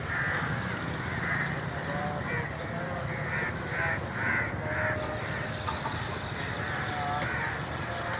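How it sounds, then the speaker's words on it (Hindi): A group of crows caws at dusk in Pakistan, repeated hoarse calls that rise and fall in bursts over constant outdoor ambience, fairly close and clear. "और ये कौवे देखो"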